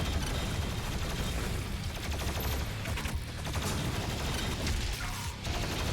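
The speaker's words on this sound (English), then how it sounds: "I have to take out the shield with the plasma rifles." Rapid plasma rifle fire in Doom Eternal, a dense continuous stream of quick energy shots that stays loud and steady throughout, with chaotic combat noise mixed in.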